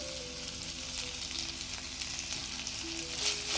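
Capsicum sautéing with golden onions in a pan makes a soft, steady sizzle, faint and even, with a slight swell near the end and no speech.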